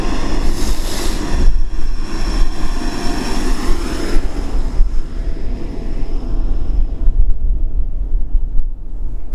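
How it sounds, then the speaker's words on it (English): A tractor engine drones and rumbles continuously outdoors in the morning, with a low throbbing hum and wind buffeting the microphone, no voices. "Let's get some tractor noise."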